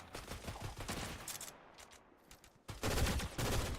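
Video-game gunfire from a shooter match with snipers and ARs: bursts of rapid shots, a quieter lull midway, then dense loud volleys returning at the end, with no talking.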